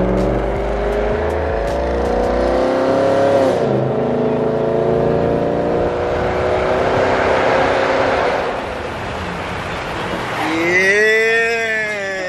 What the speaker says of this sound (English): Listen to this big boy V8.